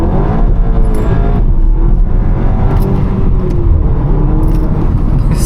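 A stage 1 tuned Cupra Leon accelerates hard with wheelspin in Birmingham, its engine note rising loud and close under a heavy rumbling roar throughout.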